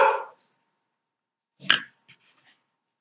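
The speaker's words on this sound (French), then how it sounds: "elle est toujours en train d'aboyer pour rien" A dog, a female, gives a short sharp bark in a quiet indoor room, a brief burst followed by a couple of faint small yips, with a soft whimper-like breath at the start.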